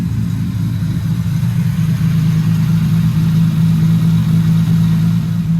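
A Lexus SC300 engine hums steadily at low, gentle revs around 1,500 to 2,000 rpm, rising slightly partway through, close and continuous with no other sounds.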